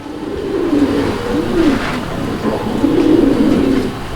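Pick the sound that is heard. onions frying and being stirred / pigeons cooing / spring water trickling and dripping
pigeons cooing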